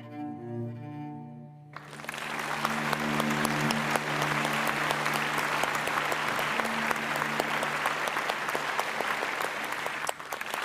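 Sustained audience applause fills the room after a musical tribute performance on a television show, starting abruptly after a held tonal chord and continuing steadily and loudly to the end.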